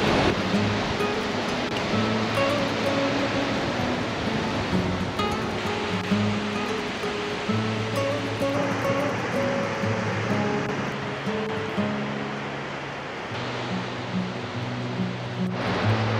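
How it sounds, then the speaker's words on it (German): A steady, rushing roar of falling water from a Norwegian waterfall in the rain fills the scene, broad and continuous, with faint musical tones drifting underneath. "Wir haben den ersten Wasserfall gefunden."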